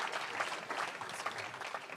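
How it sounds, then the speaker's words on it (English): An audience claps in a steady round of applause for a guest speaker at a talk, a dense patter of many hands held at an even level throughout, with no voices. "Go ahead and just a round of applause for that"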